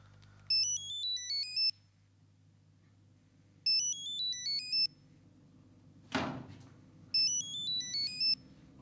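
A mobile phone ringtone plays an electronic melodic ring in three separate bursts with pauses between, and a short sharp knock or thud falls between the second and third.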